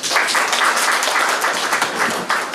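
Audience applause at a company's year-end celebration, a dense, steady wash of many hands clapping at close range, filling the whole stretch without a break.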